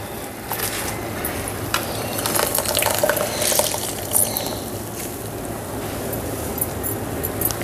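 Water drips and trickles steadily as soaked ingredients for uggani are squeezed hard by hand in a kitchen, a continuous wet splashing with small bursts of louder drips.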